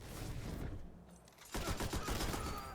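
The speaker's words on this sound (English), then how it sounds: "I got a machine gun" Rapid machine gun bursts in a first-person shooter match, a steady stream of gunfire followed by a louder, denser volley in the second half, with no talking.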